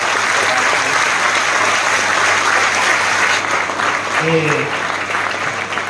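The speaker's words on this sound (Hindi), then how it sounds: "आप थोड़ा जोरदार तालियों से" Audience applause at a mushaira poetry gathering, a dense steady clatter of many hands that carries through the whole stretch, with a brief murmur of voices rising near the end.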